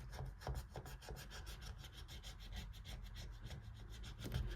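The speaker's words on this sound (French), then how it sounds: "Et la deuxième que je vais gratter, je pense que je vais gratter celle-ci." Rapid rasping strokes of a coin scraping the coating off a 5 € scratch card, close and steady, with a brief pause and then more scratching, no talk.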